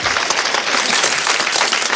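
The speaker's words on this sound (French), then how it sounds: "Et vous applaudissez en ce moment Monsieur Sève Gland de Donville-les-Bains" Audience applause in a French radio comedy studio, a dense, steady wash of clapping that fills the whole stretch at full loudness, with no voices over it.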